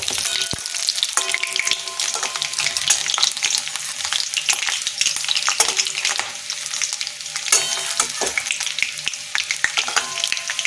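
Potato and egg fritters sizzle in hot oil in a home kitchen, a dense, crackling fry with scattered sharp pops and occasional utensil scrapes as the pieces are turned, close and steady throughout.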